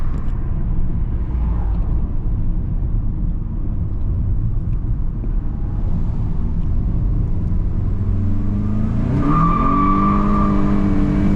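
A Volkswagen GTI engine rumbles steadily at a drag strip, heard from inside at close range, then revs up with a rising pitch in the last few seconds.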